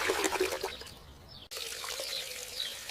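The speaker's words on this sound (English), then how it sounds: "I fill the watering can." Water gushes steadily into a watering can, a loud splashing pour that breaks off briefly midway, then resumes; no voices.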